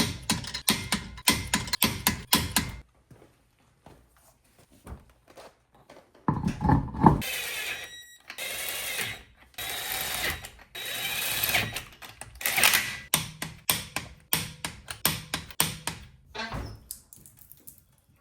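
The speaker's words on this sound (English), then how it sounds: "We'll just snug them down with the impact." An impact wrench snugs down wheel lug nuts on an off-road Subaru SH Forester: several short, loud rattling bursts up close, with gaps of quieter handling noise between them.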